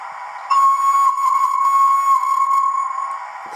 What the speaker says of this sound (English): Next sound is the whistle.